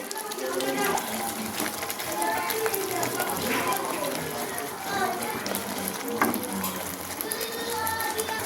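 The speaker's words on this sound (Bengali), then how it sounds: "পেঁয়াজটা দিয়ে দিলাম, একটু কষা হবে।" Onion frying with ginger, garlic, tomato and powdered spices in a pan sizzles and crackles steadily at close range, with stirring scrapes and a person talking over it.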